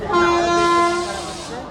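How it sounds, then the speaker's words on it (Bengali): A train horn blares loudly at a station in a steady tone for about a second, then fades into a low rumbling. "ট্রেনের আওয়াজ হচ্ছে"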